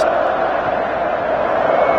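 Stadium crowd at a Brazil versus Argentina World Cup qualifier, a steady roaring wash of many voices from the stands, loud and constant throughout with no distinct individual calls.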